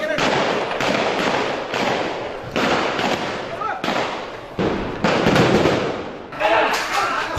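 Bursts of gunfire and grenade blasts crack through the night streets of Motijheel, Dhaka, in 2013, coming in rapid, loud, overlapping volleys with brief gaps between them.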